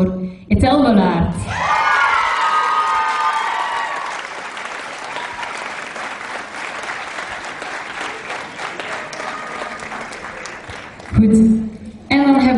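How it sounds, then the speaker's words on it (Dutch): An audience at a fashion awards gala bursts into loud, sustained applause with cheering and whoops, which gradually settles over about ten seconds; a voice speaks briefly at the start and again as the clapping ends. "Uw applaus voor Ethel Lollaert."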